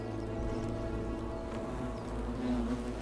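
Bees buzzing steadily in the video game The Forgotten City, a dense continuous drone with wavering pitch, close and constant throughout with no voices.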